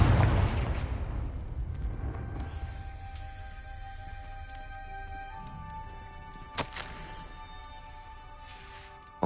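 A Confringo fire-spell explosion in Hogwarts Legacy opens with a loud burst that decays into a lingering rumble, followed by quieter ambient tones and a sharp impact near the middle.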